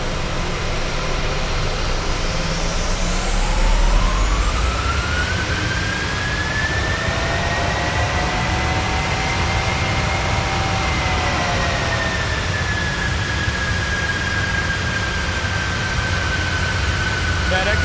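Simulated Boeing 737 jet engines under thrust in Microsoft Flight Simulator, a steady loud turbine roar with a whine rising in pitch from about two seconds in, holding through the middle and easing slightly, continuous for the whole stretch.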